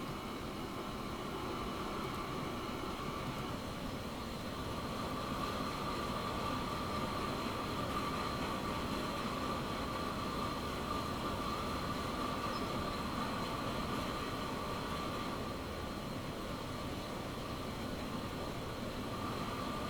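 A passenger train from the game Transport Fever 2 rolls along at speed, a steady, even rumble with a faint whine above it, continuous and unbroken throughout.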